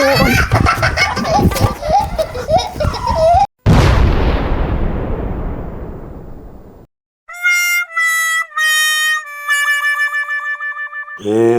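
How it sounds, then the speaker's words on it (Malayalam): A single loud, booming gundu firecracker blast during Vishu in Malappuram that rings out and decays for a few seconds, preceded by excited talk and followed by cartoonish musical tones. "ഒരു ഗുണ്ട് പൊട്ടിക്കണേനാണ്"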